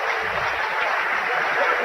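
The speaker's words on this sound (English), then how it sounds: "Listen to the crowd. Give him a round of applause as he comes out for a rest." A crowd at a men's college basketball game applauds in a sustained, even wash of clapping, with voices mixed in beneath it.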